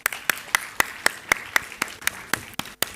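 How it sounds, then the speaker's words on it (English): Audience applause for a speaker at a college sustainability startup competition finale comes through as distinct, evenly paced claps, close and crisp, with a short break near the end before a final burst. "Let's give her another round of applause."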